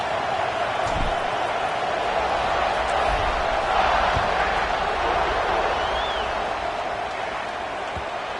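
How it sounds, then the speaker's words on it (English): A football stadium crowd keeps up a steady, dense roar after a score ahead of the kickoff, loud and continuous with no clear break. "this crowd is buzzing after that last score"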